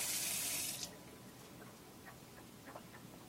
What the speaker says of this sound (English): rubbing vigorously on these hard squashes, okay, under cold, cool running water